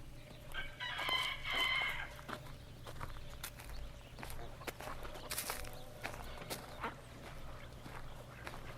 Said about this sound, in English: let's go over and watch the roosters and the chickens over here.